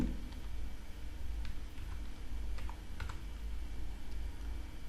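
A hashtag being entered on a phone's touchscreen keyboard makes a run of faint, irregular tapping clicks over a steady low background hum, with no voices.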